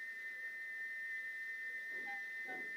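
A steady, high, piercing steam engine whistle holds one pitch throughout, sustained and unbroken over a faint background.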